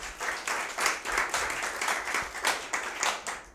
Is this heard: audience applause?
yes